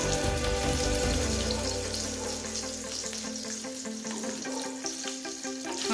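Shallots sautéing in hot oil in a pan for vatha kulambu give a steady, close sizzle and crackle with faint stirring clinks.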